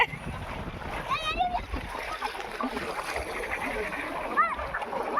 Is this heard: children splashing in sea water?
yes